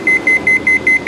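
A Sanyo washing machine sounds its U3 error alarm with an anti-vibration switch fault: six short, loud, evenly spaced electronic beeps repeating in a steady rhythm.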